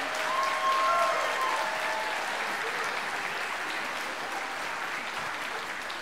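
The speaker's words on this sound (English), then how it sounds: "Let's give them another round of applause." An audience at an elementary school spring strings concert gives sustained applause, a dense, even crackle of many hands that holds steady and eases slightly toward the end, with faint tones of instruments lingering early on.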